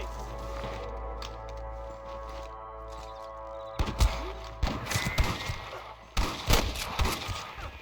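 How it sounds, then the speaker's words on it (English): Several sharp gunshots crack out in the second half of a Red Dead Redemption scene, irregular bursts over a steady low rumble and droning game ambience. "I can hear more gunshots."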